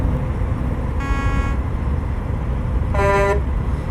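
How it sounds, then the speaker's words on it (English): Default air horn on a slammed Peterbilt 389 flatbed truck, sounded in two short blasts with a pause between them, loud over steady engine and road rumble. "Alright, here's the horn."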